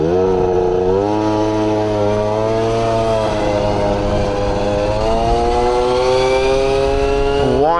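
A small engine on a bike being tuned with variator rollers revs hard and steadily, its pitch climbing in repeated waves as it winds out, loud and close throughout.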